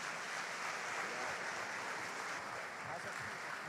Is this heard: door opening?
no